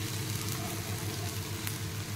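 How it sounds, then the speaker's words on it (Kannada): Tamarind juice hits a hot pan while an egg pepper fry is cooking, producing a steady, dense sizzle and hiss that holds evenly throughout with no talking. "ಇವಾಗ ನಾನು ಒಂದು 1/2 ಟೇಬಲ್ ಸ್ಪೂನ್ ಆಗುವಷ್ಟು ಹುಣಸೋಳಿ ರಸ ಆ್ಯಡ್ ಮಾಡ್ತಾ ಇದ್ದೀನಿ."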